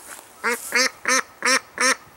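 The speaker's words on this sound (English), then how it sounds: "We didn't imprint on the ducks, and so they're kind of still afraid of us." Ducks kept on a small backyard homestead give five quick, loud nasal quacks in a steady rhythm, close by and with no talking over them.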